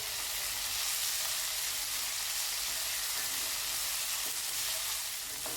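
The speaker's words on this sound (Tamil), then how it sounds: "இப்போ நல்ல மேல் தோல் நிறம் மாறினதும் பூண்டையும் சேர்த்துக்கலாம். அதையும் ஒன்றா சேர்த்து வதக்கி விடுங்க." Garlic and turkey berries sautéing in a pan, a dense continuous sizzle and crackle of frying, steady and close, with no talk over it.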